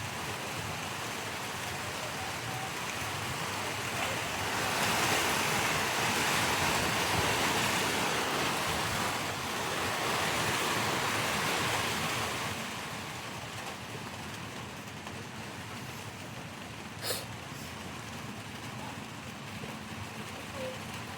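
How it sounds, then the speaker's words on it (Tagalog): Soft, steady hiss of rain falling, swelling slightly in the middle, with a brief clatter near the end; no voices. "Ulan siya, ulan."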